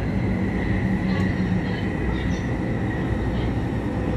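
A train moving along the rail, heard from inside the carriage: a steady, continuous rumble of wheels and car body with a constant hum, close and loud throughout, with no speech over it.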